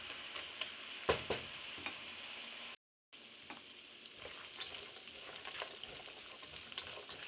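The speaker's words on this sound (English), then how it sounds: "fry the conchas in with the ground beef" Conchas pasta frying with ground beef in a pan gives a steady, soft sizzle broken by stirring scrapes and clicks, with a brief dropout partway through and no talking.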